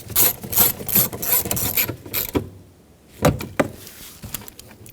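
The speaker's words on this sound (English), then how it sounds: "Install the screw in the middle of the door card." A ratchet drives a screw into the middle of the door trim panel on a 2012–2020 Chevrolet Sonic, giving rapid close clicking bursts followed by a pause and a few sharper single clicks.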